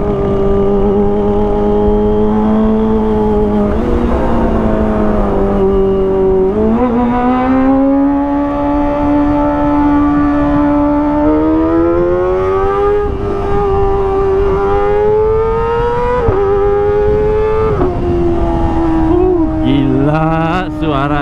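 Kawasaki ZX25R motorcycle fitted with an Arrow Pro Race exhaust, revving loud and close in a series of rising and falling high-pitched wails, a sustained engine scream that climbs, holds and drops again without voices.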